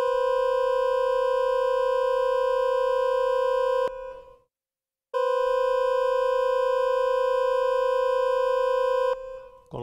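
A tritone interval is played with complex tones, giving a steady, buzzing, harmonically rich dissonant sustained sound that is heard twice with a short silence between.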